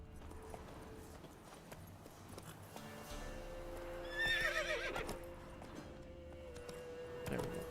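Roach the horse in The Witcher 3 game gives a clear neigh and whinny midway, with clip-clop hoofbeats and soft game ambience around it and another short snort near the end.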